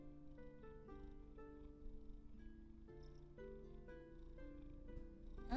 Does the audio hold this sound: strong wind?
no